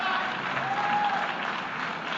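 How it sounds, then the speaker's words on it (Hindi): Sustained applause fills the United Nations General Assembly hall, a dense, steady wash of many clapping hands at moderate distance, with faint voices beneath. "तालियों की गड़गड़ाहट"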